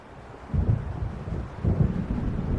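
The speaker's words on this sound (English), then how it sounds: "It seems there's a storm coming." Low rumbling thunder of an approaching storm in the video game Alan Wake Remastered, two deep rolling swells over a soft background of wind and rain.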